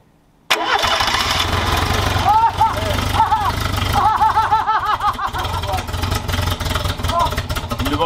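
A prototype Renault 4L engine cranks and catches at once, then runs loudly with a rough, uneven idle and a few revving surges, while people talk nearby over it.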